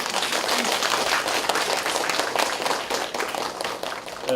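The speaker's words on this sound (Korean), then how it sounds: "저희 발행인님께 다시 한번 격려의 박수 좀 부탁드리겠습니다" An audience at a multicultural life-essay contest award ceremony in Gyeonggi gives the publisher a round of applause, a continuous, moderately loud wash of clapping that holds steady for several seconds before easing slightly at the end.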